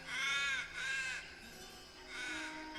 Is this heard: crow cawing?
yes